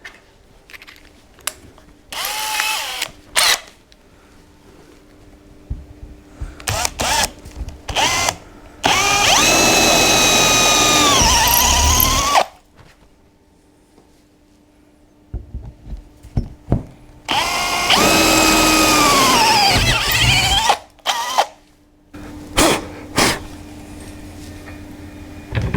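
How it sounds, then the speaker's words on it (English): A power drill whines loudly in two long bursts, boring holes into a 27 ft boat hull, with shorter quick trigger pulls and clunks between them. "We know we can drill these with confidence, and we know they're all going to be right."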